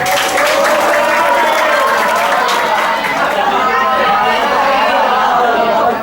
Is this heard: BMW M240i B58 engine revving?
no